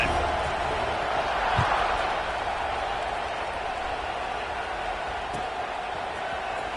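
Steady roar of a stadium crowd at a football game during a kickoff, a broad continuous wash of cheering noise from many voices, loud and sustained, with a couple of brief thumps.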